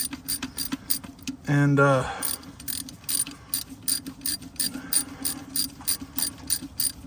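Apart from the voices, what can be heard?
ratchet tightening plugs on Detroit 60 Series ECM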